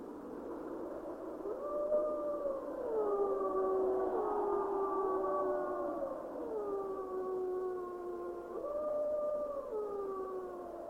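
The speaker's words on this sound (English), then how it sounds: "Here they will wait until the leader gives the killer call." Timber wolves in northwestern Canada howl together in long, overlapping, gliding tones that rise and fall, several voices layered at moderate distance over a low rumble.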